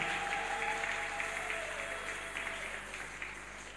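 A church congregation claps steadily through a dense round of applause that slowly fades toward the end, loud and close with no speech over it.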